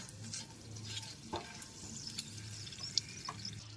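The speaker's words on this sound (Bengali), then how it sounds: "ফোড়নটাকে হালকা করে ভেজে নেব" Whole spices, including dried chillies, cardamom, cinnamon and cloves, fry gently in oil over a low flame. They give a soft, close sizzle with occasional light crackles and faint stirring clinks, and no one speaks.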